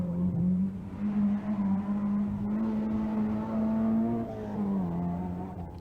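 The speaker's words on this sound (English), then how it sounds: "Winston Henry's escort is most spectacular, while his fellow Ulsterman Alan Johnson in the Toyota is leading the Group A class" Group A rally cars, a Ford Escort and a Toyota, race along a special stage of the 1984 Circuit of Ireland, engines droning loud and steady with pitch rising and falling as they accelerate, no voices heard.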